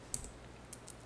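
A few sparse keystrokes on a computer keyboard, faint and close, separated by short pauses over a low background hum.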